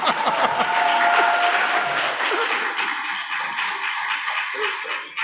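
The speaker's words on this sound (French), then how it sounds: "On doit applaudir Dieu" A church congregation applauds in praise of God, a dense wash of clapping that holds steady then slowly thins toward the end, with faint voices scattered underneath.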